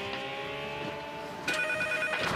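A telephone rings indoors with a steady electronic bell tone, then a brighter second ring starts partway through, fairly close and alone with no talk.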